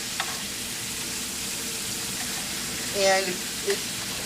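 Meat sears in a hot pan with a steady, soft sizzle throughout, punctuated by a brief louder spatter and a small scrape near the end; quiet and close.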